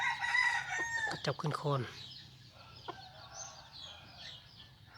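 Fighting-breed chickens (gai tor) in a yard, several birds crowing and clucking in overlapping bursts that fade after the opening seconds, with someone talking over them.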